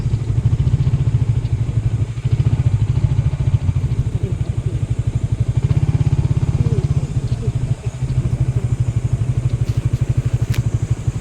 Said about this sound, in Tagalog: Parking ng mga motor.